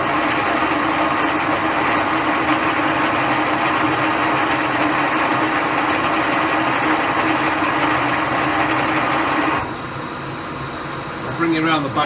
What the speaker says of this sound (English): it's a bit loud with the lathe running